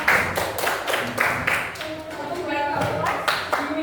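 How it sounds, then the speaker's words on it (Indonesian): Students at a peer teaching presentation in a classroom give a short burst of rhythmic clapping, quite near, with voices talking over it. "Please make applause everyone."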